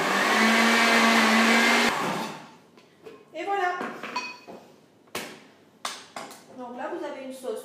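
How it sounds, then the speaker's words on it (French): A kitchen blender whirs loudly while blending an avocado sauce with lemon, olive, onion, chili, salt and parsley, runs for a couple of seconds, then stops, followed by clinks and handling sounds as a person talks. "Et on finit de mixer."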